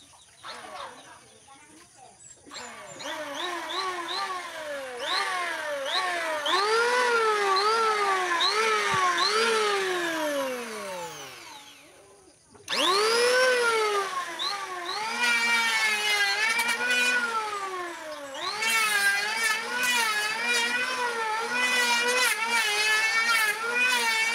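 A DCA electric planer or hand drill motor whines as it is tested, its pitch rising and falling in repeated waves as it revs up and winds down. There is a short pause midway, then a second burst of revving.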